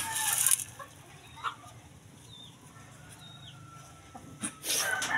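Outdoors, a rooster and hens give a few faint, scattered clucks against a quiet backyard hum, with a couple of brief louder bursts near the start and end.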